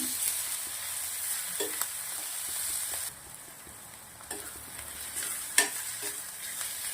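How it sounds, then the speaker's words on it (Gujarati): Green garlic sautéing over a low flame in a pan: a steady, soft sizzle with a few stirring clicks and scrapes, no voices. "ધીમા તાપે 2 મિનિટ જેવું લસણને સાંતળી લેશું."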